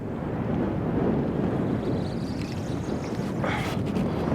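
Wind gusts across a lake around a fishing boat, buffeting the microphone with a steady low rumble. A faint splash or knock comes near the end.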